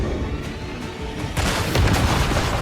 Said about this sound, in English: And I threw my grenade for no reason.